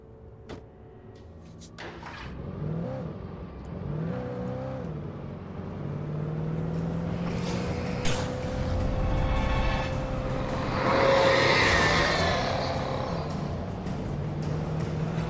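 A vehicle engine in a video game hums and revs as it drives, with tonal whines gliding up and down, a few knocks and a brighter surge near the end, and no talk.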